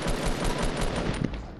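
Rapid automatic gunfire in a video game, a dense, continuous burst of shots that stays fairly loud throughout, with no talking over it.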